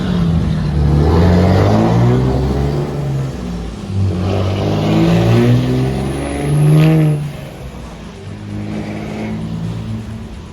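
A 6.7 Cummins truck with an S363 turbo accelerating: deep diesel engine rumble swelling and easing in waves as it pulls, loud and close, with a faint turbo whistle rising briefly partway through.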